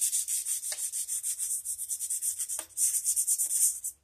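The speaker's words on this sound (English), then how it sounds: "we want to get the rust off that blade" Abrasive rubbing of sandpaper scrubbing rust off a saw blade, a steady rapid back-and-forth rhythm heard close and fairly loud, briefly pausing near the end.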